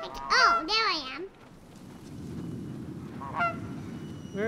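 A goose honks in the video game Knights & Bikes, two loud close calls at the start, then a fainter honk later over a noisy game soundtrack.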